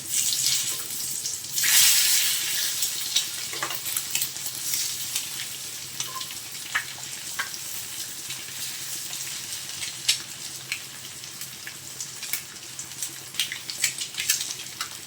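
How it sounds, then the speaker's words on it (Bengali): A steady, bright sizzle of eggs frying in hot oil with chilli powder, with occasional pops and crackles throughout. "ডিমগুলো উল্টে পাল্টে ভেজে নেব"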